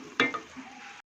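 Carrot halwa stirred and cooked in a pan, a short sizzle with a brief scrape of the spoon near the start, then a steady soft frying hiss that cuts off abruptly.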